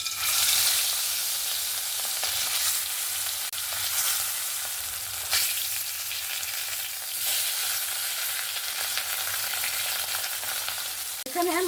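Fish pieces frying in hot mustard oil in a wok give a loud, steady, crackling sizzle throughout, close up, with no talking.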